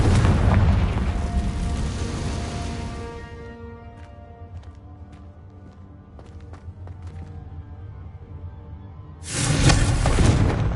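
A Bombarda explosion spell in Hogwarts Legacy: a loud, deep booming blast that rumbles and fades over a few seconds, with scattered game clicks and ringing tones, then another loud burst rising near the end.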